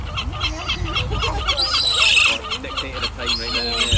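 Domestic fowl being fed by hand outdoors, with busy clucking and honking calls from several birds mixed with scattered chatter from people nearby.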